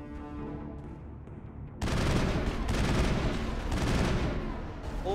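Mass Effect firefight: after a quieter opening, sustained loud gunfire erupts and keeps hammering in rapid, overlapping bursts through the rest of the stretch.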